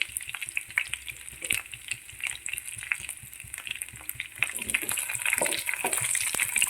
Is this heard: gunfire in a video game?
no